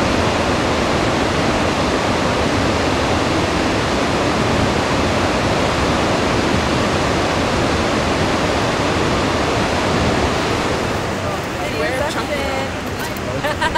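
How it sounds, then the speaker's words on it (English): An Icelandic waterfall roars as a loud, dense and unbroken rush of falling water, heard close, with faint voices of people nearby mixed into the steady noise. "What do you think of this waterfall?"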